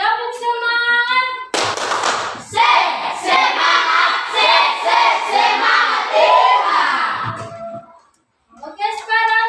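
A school class performs a rhythmic spirit clap, tepuk semangat: children's voices chant in unison, then sharp, patterned group handclaps mixed with shouted chanting, and the sung chant returns at the end.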